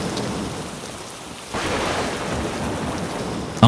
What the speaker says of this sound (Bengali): এমন সময় আবারও হঠাৎ করে বৃষ্টি শুরু হলো।